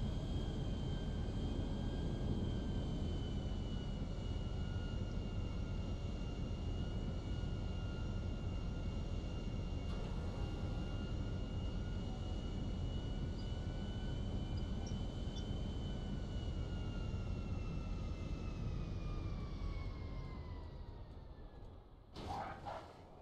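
A jet airplane landing and taxiing toward a hangar in GTA V: a steady, loud engine roar with a high whine that holds for about twenty seconds, then drops off, ending with a short burst.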